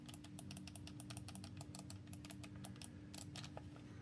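Rapid, crisp clicky switches on a GameSir G7 HE wired Xbox controller are pressed in quick, irregular bursts, close up and alone over a faint steady hum.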